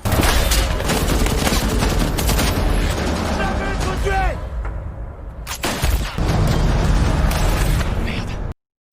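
Gunfire exchange between two sides and terrorists in a film about a terror attack against Russian soldiers: dense, loud volleys of shots and booms under a music bed, a brief lull midway, then renewed heavy firing that cuts off abruptly.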